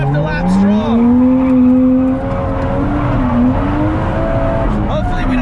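Drifting car on a winding mountain touge road on worn-out tires: a loud, close engine drone that rises and falls in pitch through the run, with faint tire noise underneath.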